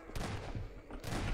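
Gunfire in the video game Half-Life 2 in the mines of Ravenholm, aimed at headcrabs: a few quick, loud shots in close succession, a pause, then another burst.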